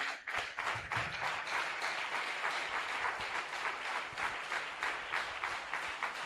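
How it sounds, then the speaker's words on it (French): Loud, dense applause from an audience at a ceremony honouring a book, steady clapping that holds for several seconds with no voices on top. "Acclamation très forte, bien nourrie."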